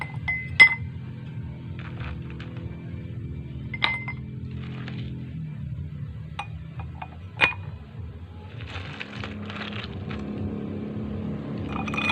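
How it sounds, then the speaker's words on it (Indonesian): Ice cubes clink sharply into four drinking glasses, with three or four distinct close taps spread across a quiet room, and faint handling noise in between. "kita masukkan es batu ke dalam 4 buah gelas ini dengan ukuran yang sama"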